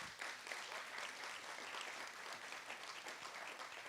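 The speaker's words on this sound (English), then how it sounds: "let's give a round of applause to them." A live audience at a 2024 anniversary event gives parents a steady, dense round of applause, many hands clapping continuously at close range for the full stretch with no talking over it.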